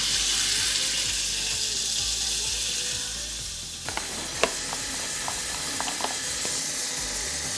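Water runs steadily from a tap into a mop bucket in a sink as Mr. Clean is added, a dense rushing hiss that stops partway through, followed by a few faint clinks and knocks.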